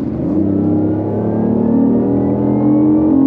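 A BMW car engine hums and revs steadily, its rich, slightly synthetic-sounding tone mixing the real engine with speaker-played sound, rising gradually in pitch, loud and close with no talking.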